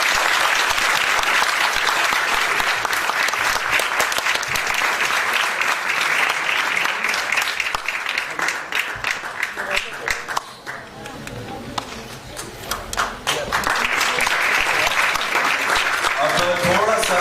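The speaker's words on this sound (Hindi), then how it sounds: "तालियां क्यों रुक गई?" Sustained, dense audience applause at a theater festival awards ceremony, loud and continuous, dipping briefly in the middle before swelling again.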